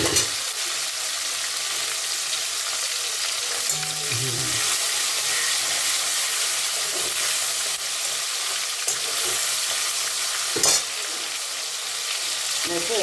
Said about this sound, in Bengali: টমেটোটা একটু ভেজে নিই।